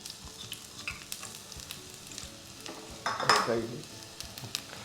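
Onion, ginger and green chili fry in coconut oil in a pan, a close crackling sizzle broken by scraping stirs and a few light clinks of a utensil against the pan.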